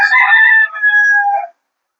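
A rooster gives one loud, close cock-a-doodle-doo that lasts about a second and a half and is heard alone, its final note dropping in pitch before silence.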